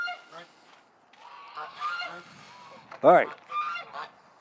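Waterfowl honk outdoors in winter, a handful of nasal honks at moderate distance, one louder call near the end, with someone briefly speaking.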